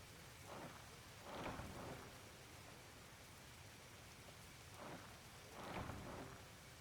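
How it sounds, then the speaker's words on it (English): Steady rain falling over the jungle area in Monster Hunter 2, a dense, even hiss with low rumbling swells of thunder rolling in twice, no voices present. "The rain here sounds amazing."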